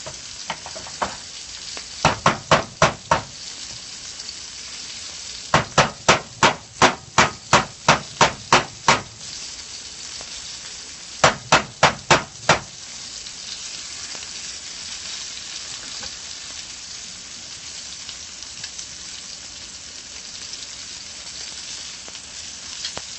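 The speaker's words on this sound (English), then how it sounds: "I'm going to stir in the rice, this butter to my rice" Butter is stirred into rice in a pan amid a low steady sizzle, punctuated by three bursts of rapid, evenly spaced clacks of a utensil against the pan, with quieter stretches of frying between them.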